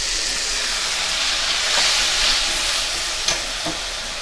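Mustard and green chili paste sizzling steadily in a hot pan with potatoes and eggplant for a chapila fish chorchori, a constant broad frying hiss with a few soft stirring clicks near the end, no voices.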